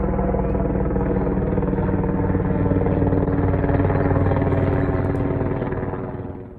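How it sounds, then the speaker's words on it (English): A helicopter's steady rotor chop and engine drone fill the air overhead, loud and continuous before fading slightly at the end. "the other thing they would have had to deal with is helicopters flying overhead"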